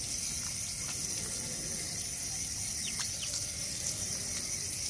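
Water runs steadily from a tap as hands are washed during wudu, a constant soft splashing hiss with faint chirps and drips, moderately quiet and unbroken, no voice over it.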